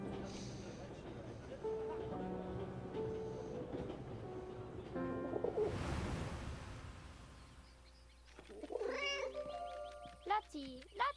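A German man's pet cat meows in a few short, rising and falling cries near the end. Before that comes a long stretch of low rumbling, and voices are present.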